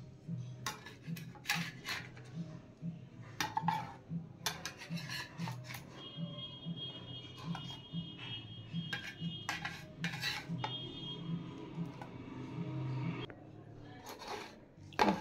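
Dishes and cutlery clink and clatter as food is served, with repeated close metallic taps and scrapes over a low steady hum, no talking.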